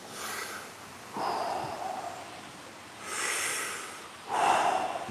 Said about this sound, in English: Again, mouth breathing.